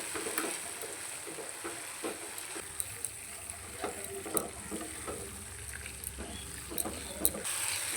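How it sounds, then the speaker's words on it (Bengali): Masala spices with a little Kashmiri chilli powder frying in a pan for white-gravy paneer, giving a soft continuous sizzle dotted with scattered crackles and light stirring taps, heard alone. "মশলাটা পুরো একদম ভাজা ভাজা করে নিতে হবে।"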